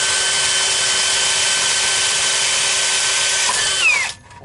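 A power drill bores a lubricated pilot hole into a Ford 6.0 diesel engine block, whining steadily and loud at close range, then winds down and stops near the end.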